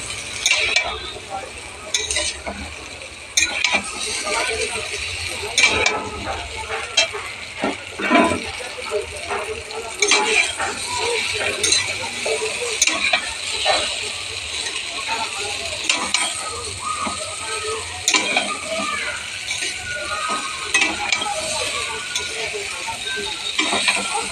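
A cauliflower and potato curry is stirred in a pan with a soft sizzle, scraped by a utensil with frequent light clinks against the metal, while a voice talks over the cooking.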